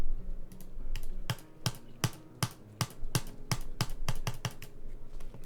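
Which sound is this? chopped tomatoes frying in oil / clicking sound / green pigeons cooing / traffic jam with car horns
clicking sound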